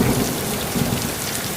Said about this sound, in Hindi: जी बारिश बहुत तेज आ रही है।